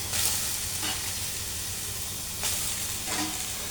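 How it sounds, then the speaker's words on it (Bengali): Taro flowers fry in a wok with a steady, close sizzle, swelling into a few brief louder bursts as they are stirred. No one speaks. "আমি এখন 5 মিনিটের জন্য ফুলগুলো একটু ভেজে নেব"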